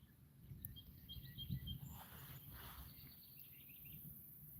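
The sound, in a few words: birds singing outdoors by a pond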